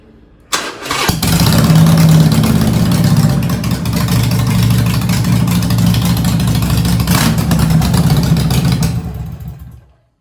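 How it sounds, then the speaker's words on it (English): A Harley-Davidson Superlow with bare header pipes, baffles removed, cranks and fires up, then settles into a loud, rough, steady idle with a deep rumble lasting several seconds before cutting off abruptly. "I'll give you a sound clip of this exhaust"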